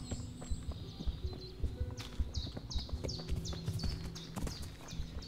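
Horse hooves clip-clop at a steady walking pace in the video game Kingdom Come, close and clear, with a few scattered bird chirps in the background and no talking.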